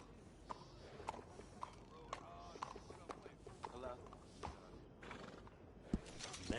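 A horse in the Red Dead Redemption 2 video game neighs and whinnies after grooming, with scattered clip-clop hoof steps and game ambience, all at moderate level.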